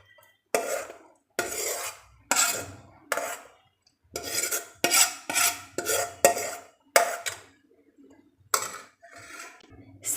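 Sautéed vegetables being stirred into appam batter in a pot, with repeated scraping and clattering strokes of a spoon against the vessel in short bursts. The strokes are close, fairly loud and uneven, with brief pauses between them.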